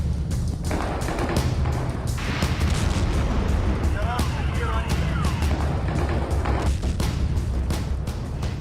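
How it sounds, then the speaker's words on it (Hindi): Heavy booms and thuds from Russian drone strikes on Kyiv roll out one after another in a dense, sustained barrage, loud and rumbling throughout. "कीव पर ऐसे कई धमाके हुए"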